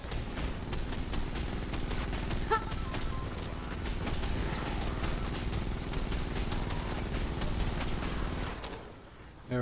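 Dense gunfire in the Fortnite Save the World game, a steady stream of rapid shots and impacts layered over game sound for several seconds, cutting out near the end.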